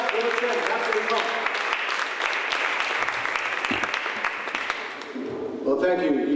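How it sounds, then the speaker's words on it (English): Audience applause at a G.I. Joe premiere event in Berlin, a dense, steady wash of many hands clapping that fills most of the moment, thinning slightly near the end before swelling again. "You gave us all very even applause."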